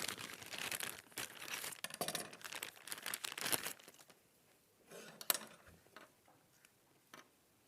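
A plastic pack of scissors being opened by hand, with loud close crinkling and crackling of the packaging in bursts that fade to quieter scattered rustles.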